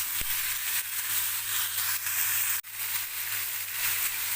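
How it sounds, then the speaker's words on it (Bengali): Spiced chicken sautéing in oil for Badshahi chicken, a steady broadband sizzle and hiss held at an even level throughout, with a brief dropout near the middle and no talking. "সমস্তটা আমি খুব ভালো করে ওপর নিচ করে কষিয়ে নেব যতক্ষণ না তেল বেরোচ্ছে"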